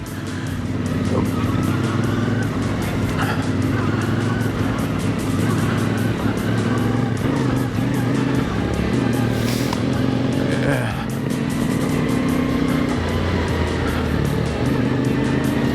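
A CFMoto 450MT motorcycle engine drones steadily on a wet, difficult trail ride, a loud close low rumble with small throttle swells and wind noise, with a rider's voice briefly mixed in.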